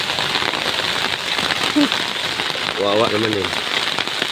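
Sudden heavy rain pours down outdoors, a dense, steady hiss of drops drumming on surfaces that fills the whole stretch, with people talking briefly over it.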